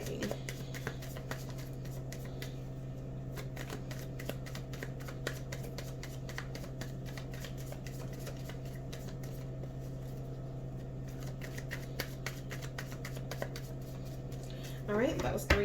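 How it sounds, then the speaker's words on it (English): Tarot cards are shuffled near the microphone, with rapid irregular clicks and riffling taps continuing over a steady low electrical hum, and a brief louder flurry at the end. "that was 3 shuffles and nothing came out, so I'm going to pick from the top"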